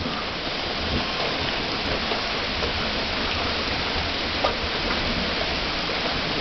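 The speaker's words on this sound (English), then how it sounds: "Here comes the rain." Steady, even rain hisses continuously, a dense wash of drops falling on surfaces without pause.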